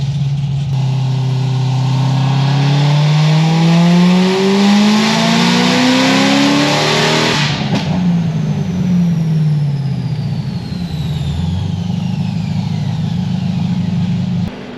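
A Chevrolet Corvette C6 ZR1 making over 900 rear-wheel horsepower revs hard under boost. The loud engine note climbs steadily through a long pull, then drops sharply and keeps running at a lower pitch. Nobody speaks.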